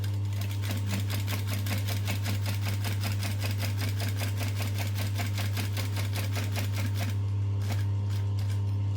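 A sewing machine chain stitches passport wallet pieces, a loud rapid mechanical clatter of even needle strokes with a steady motor hum underneath, running continuously and slowing slightly near the end.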